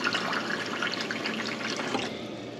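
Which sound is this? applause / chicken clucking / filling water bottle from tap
filling water bottle from tap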